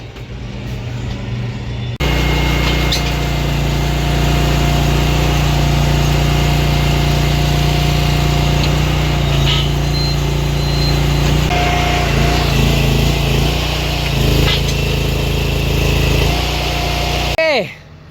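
A tractor-driven bale wrapper wrapping a straw bale in plastic, heard as a steady loud engine drone with mechanical whirring and faint squeaks that runs continuously before stopping abruptly near the end.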